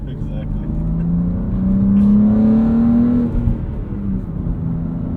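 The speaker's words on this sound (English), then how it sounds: "the exhaust note sounds a lot more like the older cars" A 2022 BMW M3 with a manual transmission and mid-pipe lets out a steady, loud engine and exhaust drone whose pitch climbs and then eases over several seconds, with voices talking over it.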